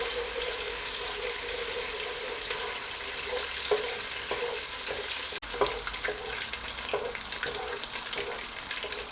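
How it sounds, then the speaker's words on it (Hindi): Chana dal fries in a pan with a broad, even sizzle and occasional soft stirring taps, steady and close throughout, with a faint watery, running-tap quality in the background. "और इसे तकरीबन 1 मिनट के लिए फ्राई कर लेंगे।"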